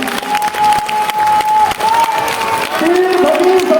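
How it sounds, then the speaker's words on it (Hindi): Loud, sustained applause fills a stadium hall at a religious gathering of saints and followers in New Delhi, with crowd noise and a few voices calling out over the steady clapping. "जोरदार तालियां बजाइए अपने नए समाज के सभी के लिए।"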